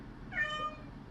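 A pet cat gives a single clear, rising and falling meow, close and moderately loud, over faint room noise.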